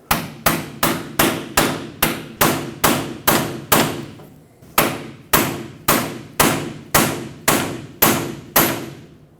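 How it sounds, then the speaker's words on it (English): A hammer striking a pry bar wedged into the split of a tie rod sleeve on a 2011-2016 Ford F-350, a series of about twenty sharp metallic blows in a steady rhythm, close and loud, with one short pause midway. "Using a pry bar, stick it right in the split of this sleeve, tap it in with a hammer."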